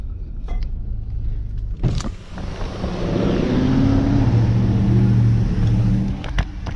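A Lamborghini Urus SUV moves through downtown Toronto traffic, its engine rumble swelling to a loud, sustained drone close by before easing off, with street noise around it and no talking.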